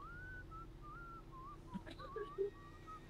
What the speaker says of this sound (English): My god, that guy is super loud when he whistles.